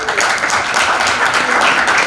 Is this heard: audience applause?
yes